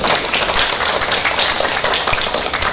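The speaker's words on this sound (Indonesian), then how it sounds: "Tepuk tangan, ayo," Audience of schoolchildren clapping at an outdoor outbound event, a dense, continuous patter of applause held at an even level for a few seconds with no talk over it.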